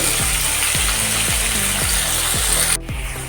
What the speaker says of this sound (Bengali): এবার আমি আলুগুলোকে ভালো করে এইভাবে নেড়ে চেড়ে লাল লাল করে প্রথমে ভেজে নেব